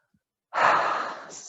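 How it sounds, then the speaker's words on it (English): A single slow breath drawn in and let out during a calm guided yoga relaxation, soft and close, starting after a brief silence and trailing off gently with no talking. "Inhale and exhale."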